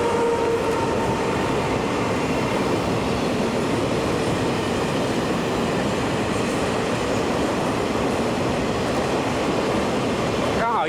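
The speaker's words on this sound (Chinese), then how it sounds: "这有火车，对不对？" A train passing on a railway line near rice paddies at Dongshan, Yilan: a loud, continuous rumble and rattle of wheels on track, close by, with a faint squeal near the end.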